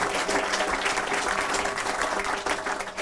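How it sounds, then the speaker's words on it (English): A debate audience at a Napier electorate debate gives a round of applause, dense sustained clapping from many hands, loud and close throughout. "Round of applause."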